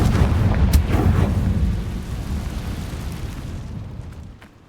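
A Confringo spell explosion in the Hogwarts Legacy video game: a heavy, deep boom that rumbles loudly at first and then slowly decays into a fading low roar.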